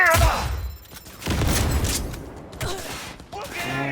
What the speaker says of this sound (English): There's that grenade.